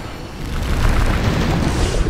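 The Bombarda blasting spell in Hogwarts Legacy sets off a dense, booming explosion that rumbles loudly and steadily for about two seconds.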